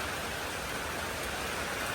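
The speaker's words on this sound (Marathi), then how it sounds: "पावसाचा जोर जोरदार चालू झालेला आहे" Heavy monsoon rain pours steadily at the Marleshwar shrine in Devrukh, Ratnagiri, during a red-alert downpour, making a dense, even hiss with no pauses and no voices.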